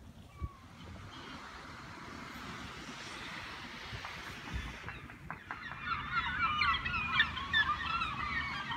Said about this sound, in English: The birds came to cheer Jeff on.